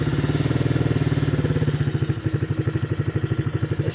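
A new Chinese ATV engine idles rough just after starting, fully warmed up, its close, loud, fast pulsing putter wavering unevenly throughout with no voices.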